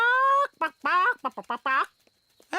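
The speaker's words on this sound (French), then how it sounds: "Regardez, c'est notre poule qui est là-bas." A cartoon hen clucks in a quick series of short, rising calls, close and clear, with brief pauses between bursts.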